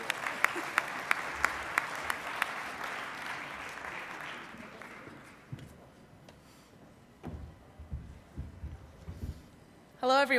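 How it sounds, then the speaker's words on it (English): An audience at a panel discussion at the Rocky Mountain EXPO 2013 claps steadily for several seconds before the applause fades into scattered claps and room noise, and a loud burst sounds at the very end. "let's give a big round of applause for KSE"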